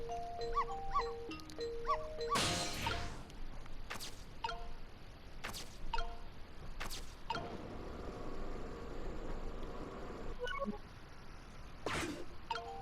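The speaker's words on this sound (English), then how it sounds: "Should I keep barking?" Small bursts of dog barking in the Ghost Trick video game, sharp and close, scattered over game chimes and tonal blips.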